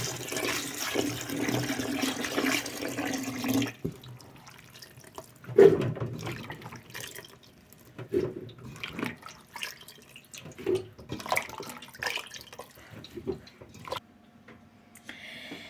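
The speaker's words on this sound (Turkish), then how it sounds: "mantarımı iki sefer sudan geçireceğiz sarı suyunu çıkması için" Chopped mushrooms are rinsed in water in a kitchen, first a rushing stream of running water, then quieter splashing, squishing and dripping as they are swished and handled.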